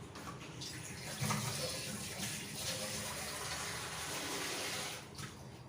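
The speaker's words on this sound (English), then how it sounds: "So I'm adding another glass of water into this" A glass of water poured into a pan of mutton chilli fry, producing a steady, close splashing gush that runs almost unbroken for several seconds before tapering off.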